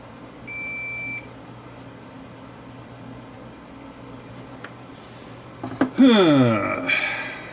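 An electronic device gives a short, steady tonal beep near the start over a low hum, followed later by a few clicks and a louder burst of sweeping noise at the end.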